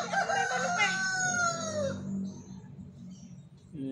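A rooster crows loudly and close in a garden where chickens and turkeys are kept, its drawn-out call trailing off into softer clucking and low farmyard murmur.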